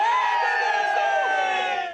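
Halloween crowd of costume revelers filling the streets of a popular entertainment district at dusk, a dense continuous roar of many voices and cheering, loud and close, with speech mixed in.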